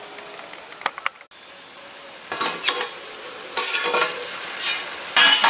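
Bean curry cooks in a pan while a utensil stirs it in bursts, producing close scraping and sizzling that start and stop, with a few light taps and clinks against the metal.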